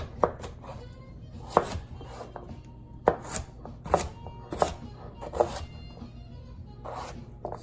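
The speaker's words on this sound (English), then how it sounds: "And then I'm just cutting it into slices here, in cubes." Knife chopping sweet potato into slices and cubes on a cutting board, a series of sharp, close, irregular cuts spaced about a second apart.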